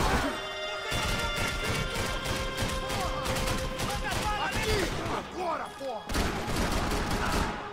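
Light machine gun fire rattles in Max Payne 3, loud rapid continuous bursts mixed with crashing impacts, and a short break near the end. Voices are heard under the shooting.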